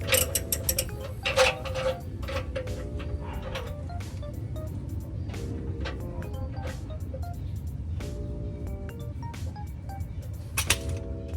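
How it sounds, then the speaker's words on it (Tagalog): Toyota Fortuner spare tire being lowered to tighten its lock bolt, heard as a continuous ratcheting, clicking winch mechanism with a low mechanical rumble underneath, steady and close for about eleven seconds. "Ang gagawin na lang natin is ibababa ulit tong spare tire para masikipan itong bolt."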